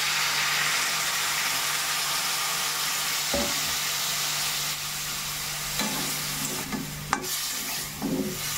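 Spiced vegetables for a Bengali vegetable ghant sizzle and fry in a pan after a splash of water, a steady loud hiss with occasional scraping stirs and clinks, no voices.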